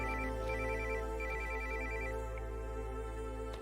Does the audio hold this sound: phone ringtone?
yes